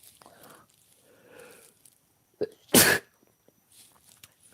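A single loud, sharp sneeze bursts out near the mic, preceded by a quick intake of breath, with faint quiet murmuring and room noise before and after.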